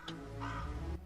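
A crow caws once, a single harsh, drawn-out call lasting about a second, loud and close, with no other sounds around it.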